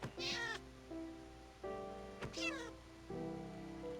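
Cat meowing several times in short, rising calls separated by pauses, fairly close, with a faint steady background hum and some tonal game music.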